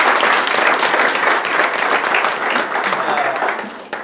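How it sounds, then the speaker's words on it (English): Applause from the audience at a high school girls' softball awards banquet: dense, sustained clapping that fills the room at close range and tapers off near the end. "Next, round of applause for our"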